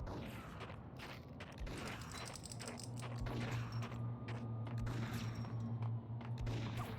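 Gunfire in the video game Max Payne, set in snowy New York. Repeated close shots and mechanical clatter sound over a steady low hum, with sharp bursts spread across the clip.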